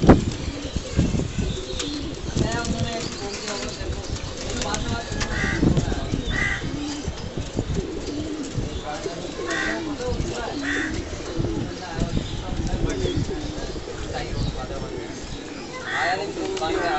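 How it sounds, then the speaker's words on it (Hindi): Gola pigeons cooing in a loft in Karachi, soft repeated coos among chirps and occasional wing flaps, steady and fairly close over a busy background of speech and ambient noise. "पचास भाई के नए कबूतर हैं।"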